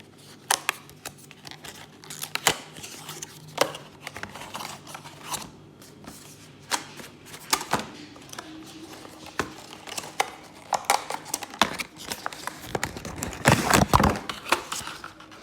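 JBL C100SI in-ear earphones being unboxed from their packaging at close range: a steady run of crisp clicks, snaps and papery rustles, with sharper bursts near the end.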